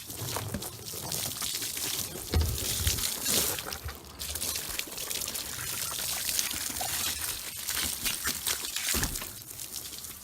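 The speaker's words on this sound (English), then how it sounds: "Rinsing all the soap and CLR off of this thing." Water from a garden hose rinses soap and CLR cleaner off a 41-year-old engine cover, a continuous close splashing and pouring rush with brief louder bursts, no voices.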